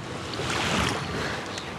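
Cold December wind gusts across the central beach at Anapa on the seashore, a steady broad rushing roar that swells and eases briefly, with possible surf mixed in.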